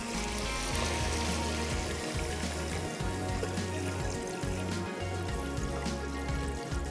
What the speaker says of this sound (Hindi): और यहाँ पे इसमें शामिल कर देंगे पानी।